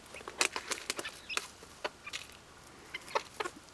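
Chickens and chicks clucking as they are fed on the ground, a scatter of short close clucks and peeps spread unevenly over a quiet outdoor background.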